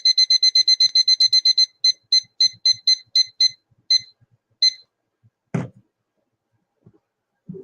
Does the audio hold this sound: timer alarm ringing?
yes